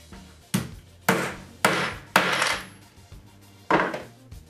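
A blind nut driven into wooden supports with a hammer: five sharp, ringing metallic strikes at uneven intervals, each decaying briefly, close and with no speech.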